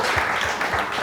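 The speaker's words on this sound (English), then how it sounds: "Give Leif a big round of applause." A conference audience of app founders and investors breaks into a brief burst of dense applause, moderately loud and roomy.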